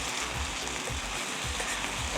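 Veggie lo mein with tofu and sweet chili sauce is frying in a pan, a steady soft sizzle with a few low stirring thumps, close and moderately quiet, with no voices.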